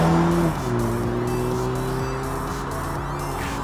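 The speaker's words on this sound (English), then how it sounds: "I just can't believe that this is a 4-cylinder engine. It's just such a nice noise." A 2021 BMW 430i M Sport's four-cylinder engine drones steadily from inside the cabin while driving, with a brief shift in pitch near the start and then a smooth, sustained hum under road noise.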